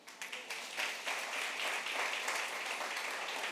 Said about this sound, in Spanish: Y yo quisiera que en obediencia aplaudieran.